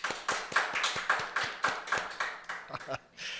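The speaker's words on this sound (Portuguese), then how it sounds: "nós queremos escutar essas palmas reais" A small group claps in brief, uneven bursts, the individual hand claps sharp, close and clearly separated, with a short break near the end.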